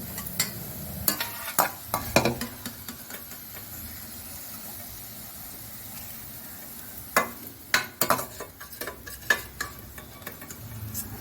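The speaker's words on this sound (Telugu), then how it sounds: "ఇది తీసి పక్కన పెట్టుకొని పప్పులు వేయించాలి" Lentils being dry-roasted in a pan for a bitter gourd dish, giving a faint steady sizzle and hiss with clusters of scraping stirring strokes near the start and again toward the end.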